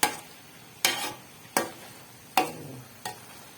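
Carrot halwa is stirred and fried in ghee, five spaced scraping strokes of a spoon against the pan, each a sharp close scrape fading into a soft sizzle, with no talking.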